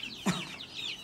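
An Aseel hen gives a single short cluck near the start, with faint chirps from nearby chicks following.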